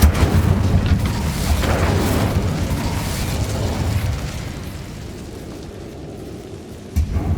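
The Incendio fire spell bursts in Hogwarts Legacy, a loud rumbling fiery blast that slowly fades, followed by a brief pop near the end.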